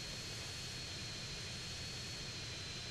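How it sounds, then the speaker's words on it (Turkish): An airplane in GTA San Andreas roars steadily as it lifts off, a constant engine drone with a thin high whine above it, even and unbroken throughout. "Havaya kalkmaya başladı. Dedim uçak patlayacak herhalde."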